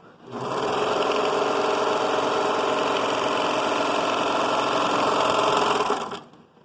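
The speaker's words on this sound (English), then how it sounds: "I need to sew gathers on the sewing machine" A sewing machine stitching gathers for a child's dress runs continuously at high speed, a loud, even mechanical whir that starts abruptly and stops just as suddenly.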